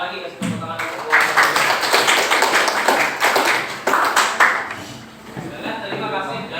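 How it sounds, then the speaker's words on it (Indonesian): Applause for a group after its presentation in a classroom discussion, with a burst of close claps and patting going on under loud talking throughout. "Sekali lagi kasih tepuk tangan untuk kelompok."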